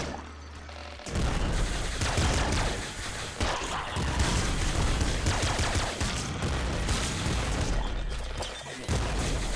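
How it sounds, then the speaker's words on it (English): Flame shotgun blasts in the Nuclear Throne video game, a dense run of loud, booming shots with crackling bursts, firing almost continuously after a brief quiet start, with short gaps between volleys. "I'm gonna try and get as close as I can with the flame shotgun without fragging myself"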